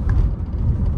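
A 2018 Volkswagen Caddy with a 2.0 engine and automatic gearbox accelerates hard with the pedal floored, giving a steady, loud low engine drone and road rumble with no voices.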